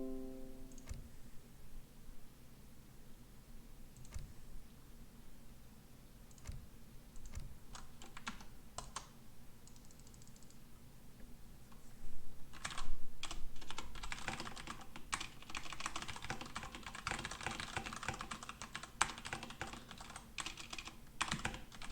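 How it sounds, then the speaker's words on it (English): Typing on a computer keyboard clicks steadily and closely, with irregular bursts of keystrokes growing busier and denser in the second half, with no voices. "As you can hear, there's some very mysterious typing going on right now."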